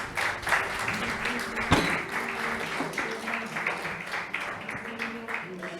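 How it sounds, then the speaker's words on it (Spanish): Applause in a church congregation, a loose crowd of hands clapping at moderate distance, mixed with voices and background sounds that continue throughout. "Denle un fuerte aplauso al Señor."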